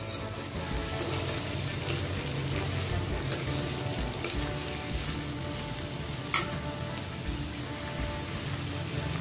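Cauliflower roasting in a pan fills the space with a continuous close sizzle and fry, with one brief sharp tap of a utensil partway through.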